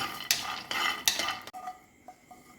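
Cashew nuts dry roasting in a pan, stirred with a few quick scraping strokes and light clinks of a spoon against metal, close by, then a quieter stretch with faint taps; no one speaks.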